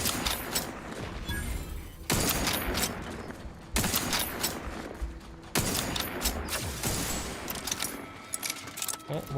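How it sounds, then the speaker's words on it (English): Mortar fire in a space combat video game, heavy blasts arriving roughly every two seconds with crackling debris and rattling between impacts, loud and close. "Oh, mortar."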